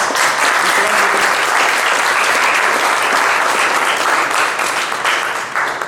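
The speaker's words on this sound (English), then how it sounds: "So give them a big round of applause." Sustained applause from an audience at a game development demo event, a dense, loud wash of clapping that holds steady throughout and tapers slightly at the end, with no voices over it.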